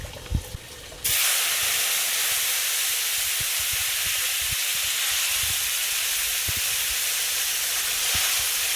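Garlic cloves fry in hot oil in a pan for a Bengali masoor dal and bottle gourd dish, a loud, steady hiss and sizzle that bursts on suddenly and holds, with faint clinks of utensils.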